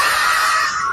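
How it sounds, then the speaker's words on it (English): A crowd in the stands screams as a bull charges toward them at a bull event: a loud, sustained wall of high-pitched shrieking from many voices, close and continuous without a break, with no speech over it. "the camera is dropped as the audience starts screaming"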